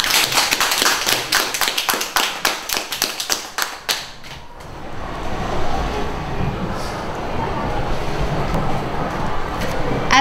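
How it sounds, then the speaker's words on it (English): An audience at a school science laboratory session claps in a quick burst of sharp, close hand claps for about four seconds, then the clapping gives way to a softer, diffuse room murmur. "Round of applause, come on!"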